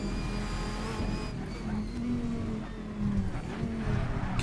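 A 1999 Dodge Viper GTS-R GT1 race car with an H-pattern gearbox, lapping the Nordschleife, its engine a loud, steady droning roar with pitch shifts suggesting throttle blips on downshifts, close and continuous.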